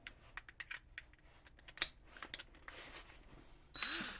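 A headlight adjuster on a 2004–2005 Toyota Prius is unscrewed by hand, producing a quiet run of small, irregular plastic clicks and ticks, with a slightly louder rattling scrape near the end.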